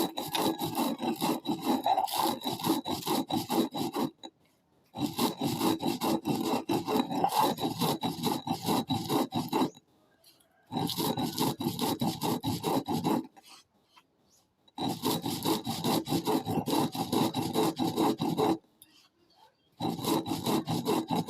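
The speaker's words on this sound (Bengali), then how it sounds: "এখন পাটাপাটি গুঁড়ো করে নেবো।" Spices ground by hand on a stone slab, a rough rhythmic rasping and scraping in four long bursts separated by short pauses, fairly close, with no talk.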